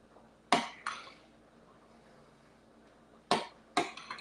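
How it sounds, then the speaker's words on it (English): A spoon stirring navy bean soup in a pot, sounding as a few sharp metallic clinks against the pot in two pairs, quiet and close, with near silence between them. "So I'm gonna stir it up some."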